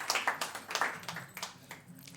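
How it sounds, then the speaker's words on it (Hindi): Audience clapping at a live talk event, a scattered patter of claps that rises and then thins out, with no talk over it. "ज़ोरदार तालियां इस नाम के लिए बजा दीजिएगा"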